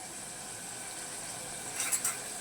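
Food frying in plenty of oil sizzles steadily in a pan, with a couple of brief scraping stirs near the end, close and fairly quiet.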